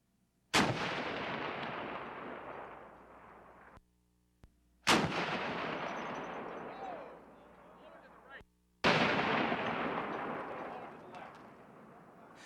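A 32-pounder carronade cannon fires three separate loud blasts at plywood targets, each a sharp boom trailing into a long rumbling decay, with brief quiet gaps between shots.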